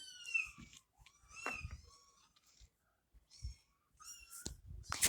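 A cat gives several close, high meows in short bursts, with quiet pauses and faint rustling between them.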